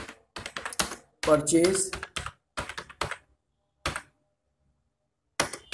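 Computer keyboard typing while entering a journal entry narration for a purchase account in accounting software, heard as short clusters of clicky keystrokes between pauses, mixed with someone talking in Hindi.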